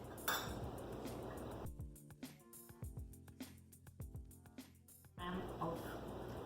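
Sourdough dough is mixed with all-purpose wheat flour in a bowl, giving quiet clinks, taps and scrapes of a utensil against the bowl in uneven bursts.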